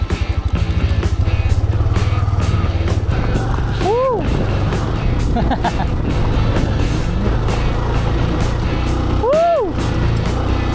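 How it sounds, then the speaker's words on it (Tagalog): A Yamaha PG-1 motorcycle engine drones steadily and loudly while riding a mountain trail, with a rider whooping twice over the constant close engine rumble. "What if gamitin natin yung motor natin, gamitin natin sa tama ang dala nating motor ngayon."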